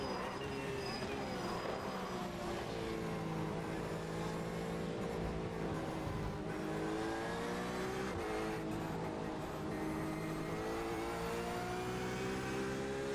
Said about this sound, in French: il y a le son de la Porsche qui me gueule dans les oreilles